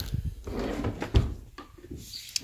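A classroom drawer holding first aid supplies slides and bumps open and shut, with a few short wooden knocks and a thud amid light rustling; no speech.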